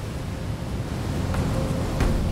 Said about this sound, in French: Ici, les vagues peuvent atteindre 10 mètres.